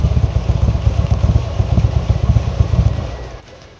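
A rare used fuel-injected motorcycle idles close by, its rhythmic low engine pulse thudding steadily before quickly fading near the end, with no voices.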